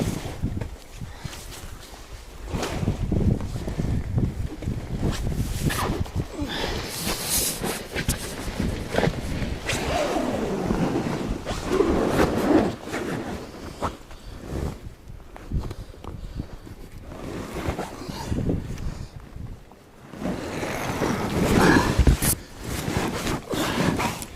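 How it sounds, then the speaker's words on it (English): Paddling a boat downstream on a river in the Scottish Highlands, with steady water sloshing and paddle strokes, broadband rushing noise throughout and a few louder surges, no talk. "It will take less effort for me to paddle, and the current itself will do most of the work for me."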